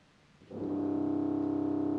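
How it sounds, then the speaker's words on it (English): A deep, buzzy reed tone swells in after a brief quiet moment and holds steady, a low C contra trumpet organ reed pipe sounding with a rough, brassy rasp. "a much larger pipe that might be like low C on the contra trumpet"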